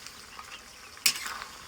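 Mutton tadka is stirred and mixed in a frying pan: a soft sizzle, then a sharp spoon scrape against the metal and a brief burst of louder frying.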